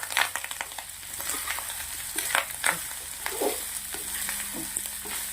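Cooked, separated grains of rice tipped into a hot pan and stirred for Maharashtrian aloo thecha rice, giving a steady close sizzle and frying crackle with scraping stir strokes throughout, no talking.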